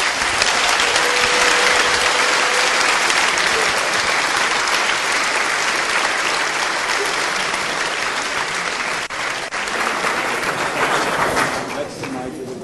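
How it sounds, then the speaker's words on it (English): A large audience at CERN welcomes Professor Ting with loud, continuous applause. The dense clapping holds for several seconds and thins slightly near the end, where voices begin to come through. "So, some applause"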